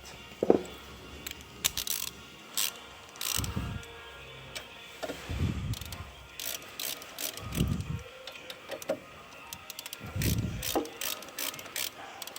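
A 7 mm ratchet wrench working on the front brake of a Renault Clio 4 during a disc and pad change, with close, repeated fast ratcheting clicks in bursts, separated by heavier metallic clunks and handling noises.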